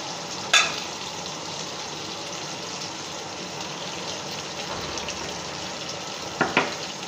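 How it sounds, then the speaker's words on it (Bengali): Ginger frying in a pan, a soft even sizzle that runs continuously, broken by a sharp clatter of utensil at the start and a couple more taps near the end. "আদাটা ভালো করে ভাজা হয়ে গেছে"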